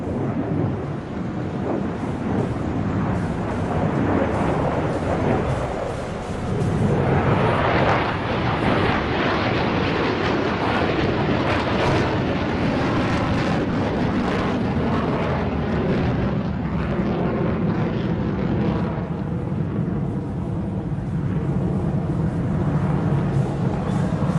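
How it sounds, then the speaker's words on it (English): A large military jet at an air show in Dubai pulls tight turns with full afterburner, a deep continuous roar that swells and rumbles loud and sustained across the whole stretch. "Full afterburn on as well."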